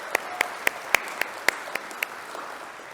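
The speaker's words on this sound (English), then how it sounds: "that certainly is worth clapping for" A few scattered claps from an audience, roughly nine sharp, separate hand claps in a short, thin burst over a quiet background.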